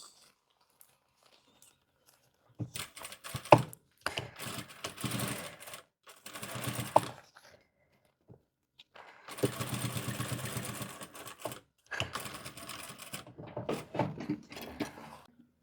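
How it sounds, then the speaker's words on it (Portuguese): A sewing machine runs in several bursts, stitching the facing of a fitted midi skirt, with short pauses between runs of rapid mechanical whirring and clatter. "E nós vamos passar uma costurinha aqui prendendo."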